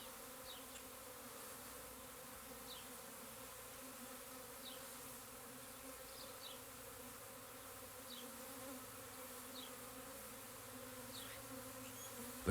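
Honey bees buzz deep inside the hive, a dense, steady drone from thousands of workers that holds unbroken at close range, with a few brief higher whines from individual bees.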